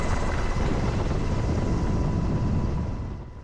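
A firefighting helicopter working a wildfire on an island, its rotor and engine roar loud and steady up close, easing slightly toward the end.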